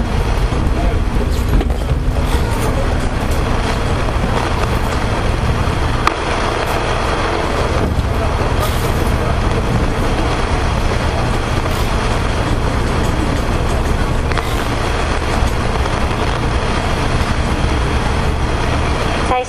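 Panther class race cars at an NTC Cup race roar steadily in a loud, continuous drone that runs throughout, with a commentator talking over the engines.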